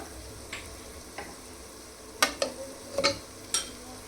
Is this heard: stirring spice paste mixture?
yes